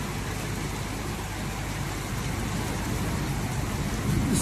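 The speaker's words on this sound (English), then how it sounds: "it's kind of good rain going on." Steady rain falls on a roadside in Noida, a dense, even hiss of drops that holds at a constant level throughout, with a faint low rumble beneath and no voices.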